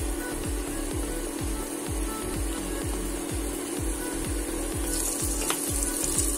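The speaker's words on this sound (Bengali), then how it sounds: "প্রেশারে পরিমাণ মতো তেল দিয়ে দিয়ে দিলাম পেঁয়াজ মরিচ" Onions and chillies fry in oil in a pressure cooker, a steady sizzling hiss with a rapid, regular ticking pulse running underneath throughout.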